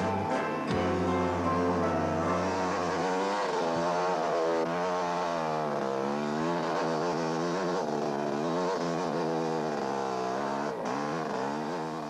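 500cc motorcycle engines in the 1983 Finke desert race, a loud, continuous roar with rising and falling revs as the bikes race along the final run, close and unbroken.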